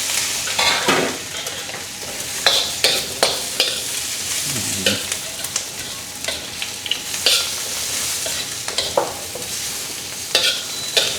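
Ginger, garlic and onion sauté in a hot pan, a steady sizzle broken by repeated scraping and stirring strokes of a utensil against the pan, loud and close with no talk.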